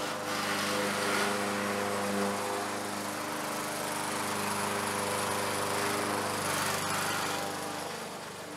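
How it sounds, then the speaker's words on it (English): A lawn mower runs steadily outdoors on a farm, its engine a continuous, fairly close drone with a slight swell partway through and no talking. "He's mowing."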